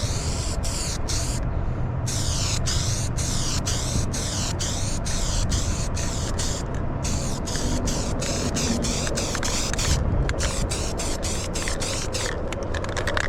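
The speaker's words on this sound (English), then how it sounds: "we're just gonna spray away like a madman." Continuous loud hiss of a spray gun painting a car hood pours out for the whole stretch, with rhythmic pulsing in its sound and brief breaks, close and steady.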